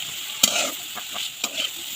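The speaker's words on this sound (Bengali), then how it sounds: "তারপর ভাজিটাও বসিয়ে দিতেছি।" Vegetable bhaji frying in a pan on a home stove, a steady sizzling hiss broken by a few sharp clinks and scrapes of stirring, close and fairly quiet, with no talk.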